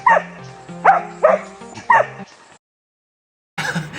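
Several close dog barks and yips come in an uneven sequence in Bogotá, Colombia; a pause of quiet follows, then more barking starts up.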